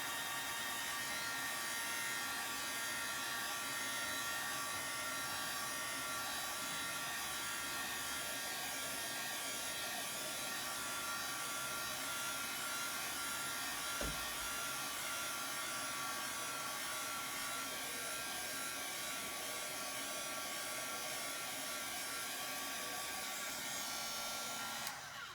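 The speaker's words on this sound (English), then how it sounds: "be careful with heat guns like this because you can burn your fingers" A heat gun used for embossing on a card blows with a steady, close, hissing electric whir like a hair dryer, continuous and even throughout, with a single faint knock midway and no talking.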